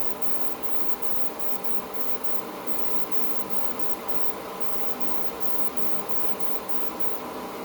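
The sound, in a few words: spray painting a 1940 Ford coupe hood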